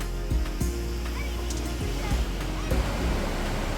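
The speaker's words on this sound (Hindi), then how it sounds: "ये रहा, हम फॉल के पास आ गए हैं।" A waterfall in the Kashmir mountains gives off a steady, broad rush of water, close and constant, with a few faint thumps and voices in the background.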